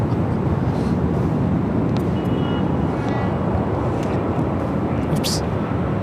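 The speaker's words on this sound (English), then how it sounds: "we'd rather have the planes louder than Kevin." Jet airliners at Los Angeles LAX airport produce a continuous loud broadband roar that fills the air steadily, with faint scattered higher noises over it.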